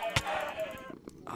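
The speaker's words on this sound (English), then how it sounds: "The sheep sound." A sheep bleats a few times in Minecraft, with a brief sharp noise near the start and low background sounds throughout.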